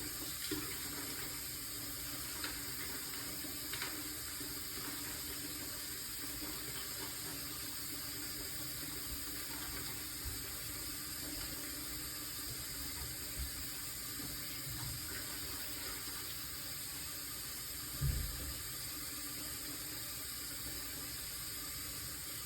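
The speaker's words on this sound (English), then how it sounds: "So now this is when I wash my hands." Water runs steadily from a bathroom sink tap as hands are washed, a faint continuous hiss with small splashes and one brief louder clunk near the end, no voices.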